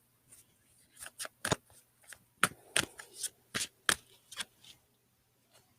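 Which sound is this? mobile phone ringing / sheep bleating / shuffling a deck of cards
shuffling a deck of cards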